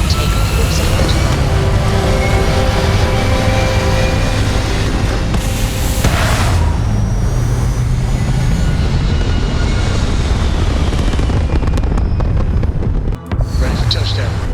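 Spaceship lifting off in the Starfield video game, a loud steady engine roar with a rumbling low end that swells and holds, with a brief thump late on and a short voice line over it.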